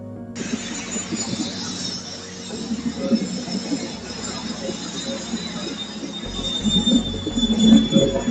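The Chennai–Coimbatore Shatabdi Express runs at speed, heard from inside the AC chair car as a steady rumbling roll with a faint high squeal and light rattles, and some murmured voices.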